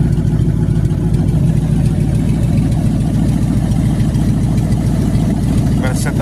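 A hot rod engine with a carburetor choke still needing adjustment idles while warming up, a loud, close, continuous low rumble with an even, rapid pulse throughout.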